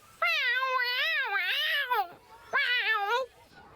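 A cartoon cat in a Shinchan episode lets out two loud, drawn-out meows, close and clear, one long wavering cry followed by a shorter one after a brief pause.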